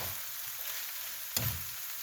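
Eggplant sizzles steadily while stir-frying in a skillet for a Thai spicy basil stir-fry, with a brief utensil clatter partway through.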